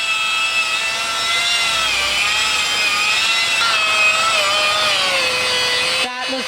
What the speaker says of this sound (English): On the other side, we have Nino, who by the sounds of it is doing some polishing.